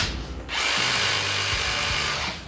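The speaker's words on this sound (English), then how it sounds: "basically this is the same as a reciprocating saw, except it's one-handed" Ridgid 18V subcompact brushless one-handed reciprocating saw running steadily for about two seconds after a brief pause, a loud, close, continuous buzzing whine with a rough low-end rattle, no voices.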